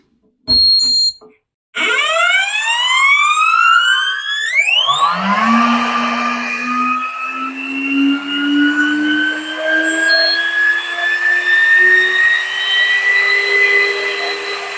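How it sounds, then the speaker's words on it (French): A GHD Duet Style 2-in-1 hair dryer-straightener whirs to life after a couple of clicks, its motor pitch sweeping sharply upward into a loud, steady high whine that holds. "Je vous laisse apprécier le bruit au démarrage du GHD Duet."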